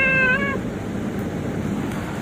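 A fussy cat gives one clear, loud meow at the start, then falls quiet over a low steady background hum.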